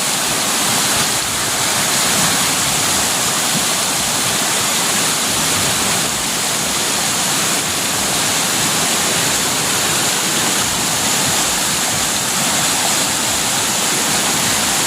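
Steady, loud rush of flowing river water, a constant broad roar with no pauses and no voices.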